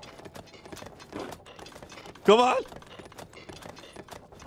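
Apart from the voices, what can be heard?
horse hooves clip-clopping in Tears of the Kingdom video game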